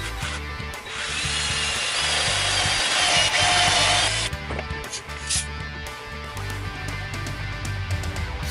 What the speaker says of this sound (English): this is a special Miller dowel step drill.